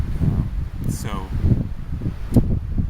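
Outdoor wind buffets the microphone in a steady low rumble with gusty surges, while someone speaks over it.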